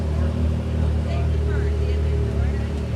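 Off-road buggy engines, one a newly built buggy with about 200 miles on it, rumble and rev loudly and steadily up close at a live off-road racing broadcast, while people talk over the engine noise.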